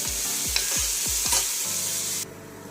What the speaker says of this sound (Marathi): कांदा इथे छान परतत आहे